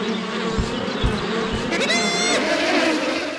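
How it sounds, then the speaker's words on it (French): Steady, loud droning buzz of a bee swarm in a Winnie the Pooh video game, continuous throughout with a brief higher warbling tone partway through. "Tu as fait fuir toutes les abeilles."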